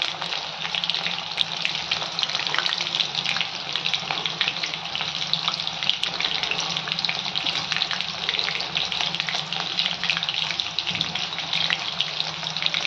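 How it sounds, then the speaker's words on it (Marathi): Chicken 65 pieces deep frying in hot oil, a steady, even bubbling hiss that holds at the same moderate loudness throughout, close by and without speech. "आता आपण हे एकसारखं तळून घेऊयात।"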